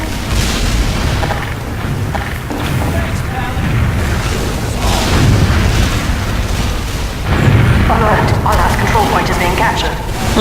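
Explosions in the video game Team Fortress 2, repeated loud booms and rumbling blasts close up that keep going throughout, with someone talking over them.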